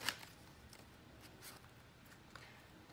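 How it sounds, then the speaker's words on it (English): Soft riffling and flicking of tarot cards being shuffled, close and quiet, with brief rustling bursts and no voices. "one more deck to shuffle"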